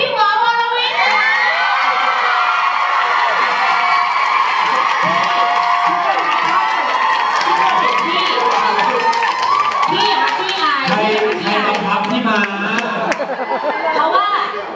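A large indoor audience at a live entertainment event roars with cheering, shouting and applause, a loud continuous wash of voices and claps that never lets up.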